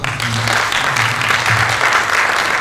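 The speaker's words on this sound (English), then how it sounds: "Can we give them a hand of applause?" Audience applause for the resource persons at a personal financial management workshop for university staff: a steady, dense wash of clapping from many hands that carries on for a few seconds, with a faint low hum underneath.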